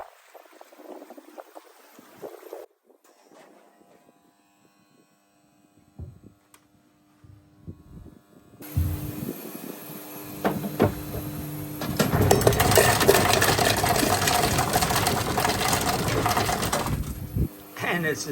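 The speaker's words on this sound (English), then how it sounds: "It's got an ice machine in it." A resort ice machine at a Maldives outdoor building hums faintly, then bursts into a loud, steady, rattling rush of ice dispensing for several seconds before stopping.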